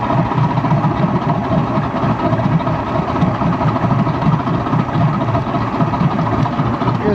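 A Mercury 135hp outboard engine warms up at idle, giving a steady, close, low rumbling drone that holds an even level throughout with no revving.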